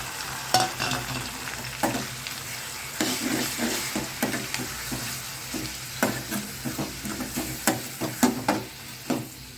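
Ground onion paste fries and sizzles in a pan for a brinjal fish curry, with a steady broadband hiss and repeated scraping stir strokes of a spoon against the pan, close and fairly loud.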